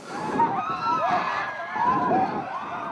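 Distant raw crowd hubbub recorded for the King Kong film, many voices blending into a swelling murmur with occasional shouts rising and falling, faint and muffled.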